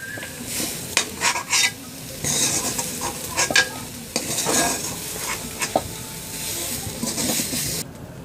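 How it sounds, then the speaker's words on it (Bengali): Browned fried soybean chunks being scooped out of a hot pan of oil: continuous sizzling with repeated scraping and clinks of a spatula on the pan, close and fairly loud, no voices. "এখন আমরা সয়াবিনটাকে তুলে নিচ্ছি।"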